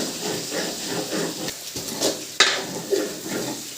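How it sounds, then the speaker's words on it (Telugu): Brinjal fries in hot oil, giving a steady hiss and sizzle with occasional sharp clinks and scrapes of stirring against the pan, close and fairly loud, with no talking. "వంకాయ ఇలా నూనెలోనే వేగితే టేస్ట్ అయితే సూపర్గా ఉంటుంది"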